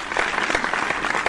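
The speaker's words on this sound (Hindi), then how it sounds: "भरपूर तालियां हमारे कंटेस्टेंट मोहम्मद बिलाल के लिए।" An audience at a debate competition at a 14th August cultural show claps steadily for a contestant, a dense, loud, even patter of applause with no voices over it.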